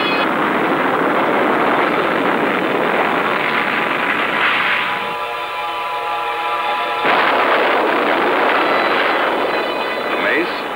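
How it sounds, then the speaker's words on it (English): Archival sound of a Matador missile rocket boost launch: a loud, continuous roaring blast with a rougher rumbling stretch in the middle, under a narrator's voice. "It is boosted off by a rocket, and then a turbojet engine takes over."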